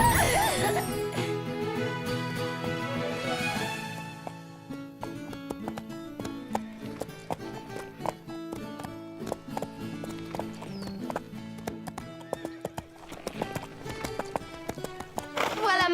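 Horse hooves clip-clop steadily as the horse is ridden in a French-dubbed animated show, the footfalls set beneath a busy music track.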